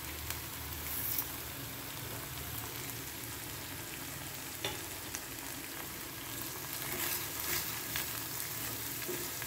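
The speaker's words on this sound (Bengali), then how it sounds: "এবার দেখুন বন্ধুরা গ্রেভিটা সুন্দর ফুটে এসছে" Paneer kofta curry gravy bubbling in a pan, a soft continuous sizzle and simmer with scattered tiny pops and a couple of light clicks, close but quiet, no one talking.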